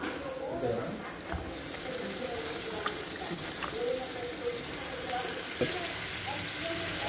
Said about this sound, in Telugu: ఇప్పుడు ఈ మ్యారినేట్ చేసి పెట్టుకున్న ఒక హాఫ్ అన్ అవర్ కింద మ్యారినేట్ చేసి పెట్టుకుని చికెన్ పీసెస్ వేసేసుకుందాము